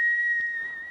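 A man whistles in a film, a single sustained high steady tone held for about a second, clear and close, with a brief soft noise partway through.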